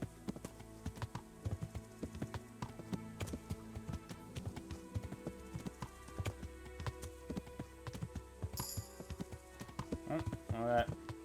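Hoofbeats from horse riding in Kingdom Come: Deliverance, an irregular clopping rhythm over soft in-game music, with livestock-like noises near the end and a voice briefly heard.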